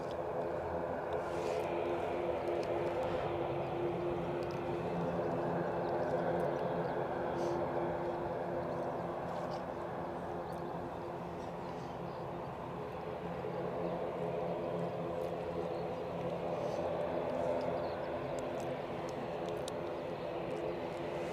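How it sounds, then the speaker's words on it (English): An Aer Lingus ATR turboprop airliner hums steadily in the distance for the whole stretch, a broad, even drone with a low throb and no clear rise or fade. "the plane you can hear is yet another Aer Lingus ATR to Dublin"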